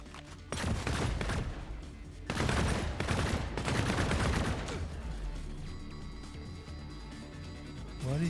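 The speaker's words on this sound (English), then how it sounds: "now you can probably hear even when I shoot this cannon" Heavy cannon fire in the game Earth From Another Sun, coming in dense loud bursts that end abruptly, followed by a lower rumbling backdrop and lingering tones.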